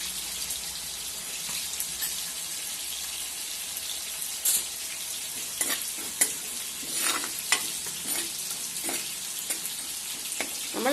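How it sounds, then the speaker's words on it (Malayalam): Spices with chili powder fry and get stirred in a pan over medium flame, a steady soft sizzle with scattered scraping clicks of the spoon, close and moderately quiet, with no voices. "നമ്മളിതെല്ലാം വറക്കുമ്പോൾ മീഡിയം ഫ്ലെയിമിൽ വെച്ചേ ചെയ്യാവുള്ളൂ"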